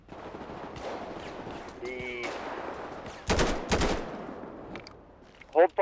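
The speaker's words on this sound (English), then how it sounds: "There's a guy there who was shooting out." Gunfire breaks out in a roleplay video game as two loud back-to-back bursts, followed by sharper shots near the end. They cut through a murmur of radio chatter and a voice speaking.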